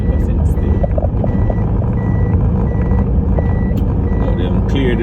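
A big truck passes on a hurricane-cleared road through Fern Gully, its engine a loud, steady rumble that fills the whole stretch, while reversing beeps repeat at an even rhythm over the top.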